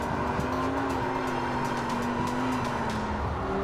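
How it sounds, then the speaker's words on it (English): A 2015 Lamborghini Huracan engine warms up, holding a steady, even idle drone close by with no revving. "Let's pause for a moment and admire the Lamborghini heating up its car."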